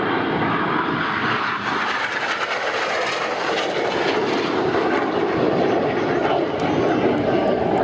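Aerobatic display aircraft trailing coloured smoke pass overhead at the East Fortune Airshow, a loud, steady engine roar that fills the whole stretch without pause and with no voices.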